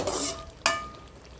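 A thick bitter gourd thokku with jaggery bubbles and hisses in a pan up close, with a single sharp clink of a spoon against the metal partway through.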